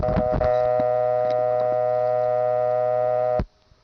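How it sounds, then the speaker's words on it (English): A St. Thomas step-by-step telephone exchange in New Tripoli, Pennsylvania, 1976, gives a steady dial tone with faint background ticks. It holds loud and even for about three and a half seconds, then cuts off abruptly. "St. Thomas dial tone."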